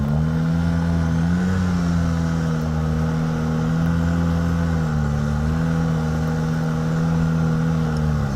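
Snowmobile engine droning loud and close as it accelerates up a snowy hill climb, a sustained steady tone with slight pitch wavers throughout and no talking.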